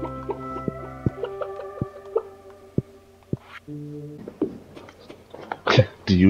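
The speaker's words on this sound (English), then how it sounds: "I'll let the chickens out." Chickens clucking in the farming video game Stardew Valley, with short clucks and calls over a soft game soundtrack, ending with a louder burst of squawking.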